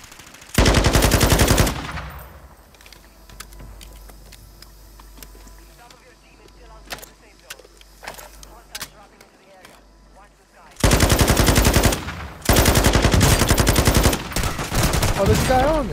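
Loud bursts of automatic gunfire from Call of Duty Modern Warfare II Warzone, fired by enemies in a building: a long burst near the start, then quieter scattered shots under game sounds, then heavy sustained bursts near the end.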